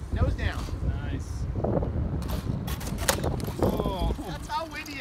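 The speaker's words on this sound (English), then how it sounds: "That's how windy it is, guys." Strong gusty wind at a remote-control model airplane flying field buffets the microphone with loud, continuous roaring rumble, and voices can be heard under it.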